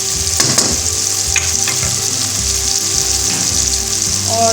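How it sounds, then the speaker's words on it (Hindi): Ginger garlic paste and spices sizzle and fry steadily in a pan, a close, dense crackling hiss with occasional stirring scrapes, no voices. "मसाले को जो हमने अच्छे तरीके से भून लेना।"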